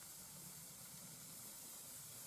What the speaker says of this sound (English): Yep, we've got boiling water.